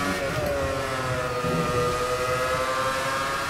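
A Formula 1 car engine in the video game F1 2018 on Xbox One drones steadily at high revs, a sustained whining tone with harmonic layers, loud and continuous throughout with no talking.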